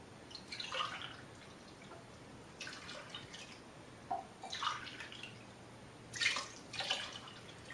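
Water poured from a can into a measuring cup for spaghetti sauce: faint, soft splashing and dribbling in short uneven bursts, close by in a quiet kitchen.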